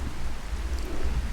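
In Fallout 4, a rain storm produces steady hissing rainfall with a low rumble underneath, continuous and fairly close.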